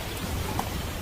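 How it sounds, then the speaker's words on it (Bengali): Heavy rain and gusting wind from a cartoon sound effect in a Bengali village horror cartoon: a steady, dense wash of downpour with no talking. "কিন্তু সঙ্গে সঙ্গে বাতাস আর বৃষ্টির দাপটও যেন হয়ে গেল দ্বিগুণ।"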